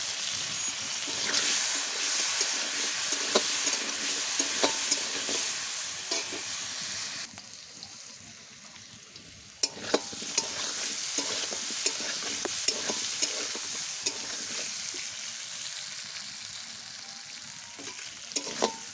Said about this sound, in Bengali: এই আলুর মধ্যে আমি দেব লবণ আর হলুদ, দিয়ে ভালো করে ভেজে নেব